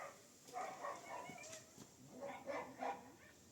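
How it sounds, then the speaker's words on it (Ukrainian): A few dog barks ring out at a distance from a neighbor's yard, spaced irregularly across a few seconds against faint background noise, with no talking. "От, в сусідів гавкає"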